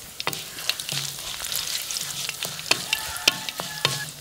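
Mustard seeds, fenugreek, curry leaves and dried chilli fry in hot oil with a busy, close sizzle broken by sharp pops and crackles throughout.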